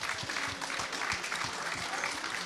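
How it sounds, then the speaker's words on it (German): Audience applause breaks out at an evening Pink Shoe Day event in Leipzig, a dense, steady patter of many hands clapping from a crowd, short and fairly distant. "Komm, hol dir deinen Applaus ab, mein lieber Robby."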